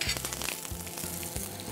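Curry leaves tempered in hot sesame oil crackle and sizzle in sharp, close bursts over a brief stretch, with a few louder pops.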